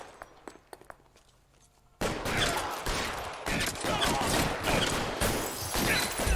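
Dense gunfire in L.A. Noire, a few sharp isolated shots at first, then a loud sustained barrage of rapid overlapping shots, close and continuous.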